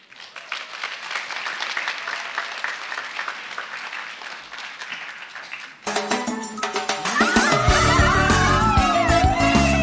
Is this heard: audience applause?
yes